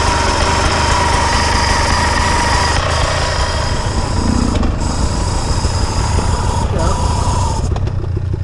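A motorcycle engine runs steadily and loudly throughout, with a rough, buzzing drone while people talk over it, on a ride in Valsecca.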